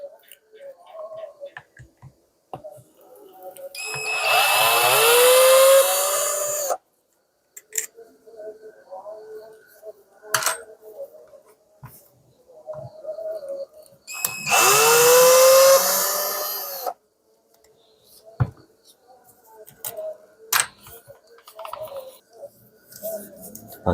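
A power drill whirs in two bursts of about three seconds each while unscrewing the head of a Makita 9556HN angle grinder, with quiet clicks and handling noises of the disassembly in between.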